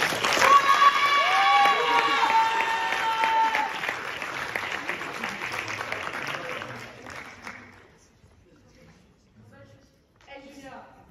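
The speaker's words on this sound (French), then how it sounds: "Je vous prie de faire un tonnerre d'applaudissements à Julia" Audience at an eloquence contest gives a loud round of applause, with a few cheers, that fades out after about seven seconds, followed by near silence and a faint stir of noise at the end.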